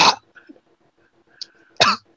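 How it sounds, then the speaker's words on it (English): A person coughs sharply twice, once at the start and again near the end, loud and close, with quiet faint background tones between. "Don't cough up crap in my window."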